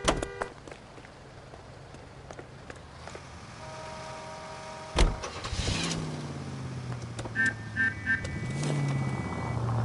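A 1940s car in the L.A. Noire video game starts up and pulls away, with mechanical clunks, a door-like thump and a rising engine hum under brief game tones, moderately loud.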